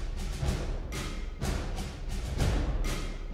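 A layered snare drum and tom beat plays a steady pulse, each strong hit ringing out briefly before the next, close and alone with no talk.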